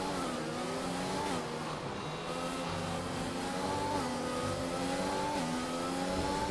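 A failing Formula 1 race car engine in a video game, at Melbourne Grand Prix Circuit, drones and revs steadily with shifting pitch, loud and continuous, with a rough, strained edge throughout.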